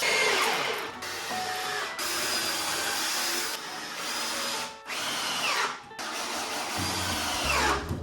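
A power drill backs old screws out of wooden planks in a garage, running in several loud whirring bursts with short pauses between them, close and without talk.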